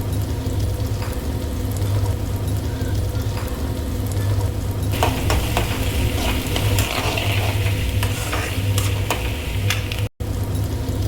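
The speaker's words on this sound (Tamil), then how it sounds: "கூடவே உப்பு சேர்த்து வதக்கிக்கோங்க." Chopped tomato sautés with salt in a hot pan for a pepper chicken fry, giving a steady sizzle with scraping stirs and clicks that grow busier partway through.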